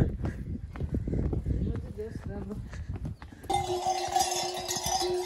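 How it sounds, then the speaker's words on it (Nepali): A donkey or mule walks a mountain trail at Ghandruk in Nepal, its hooves clip-clopping in an uneven rhythm close by while someone talks over it. "यो गधा हो कि खचड हो के हो"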